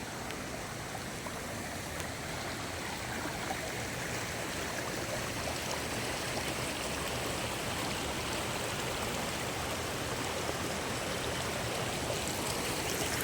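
A constant rushing of a river swollen by heavy rain, steady and unbroken, heard from a little distance and fairly quiet.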